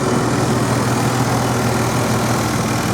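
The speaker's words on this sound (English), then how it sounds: "engine running" A car engine idles with the transmission in park, a loud continuous rumble filling the space at close range, steady and unbroken with no speech over it.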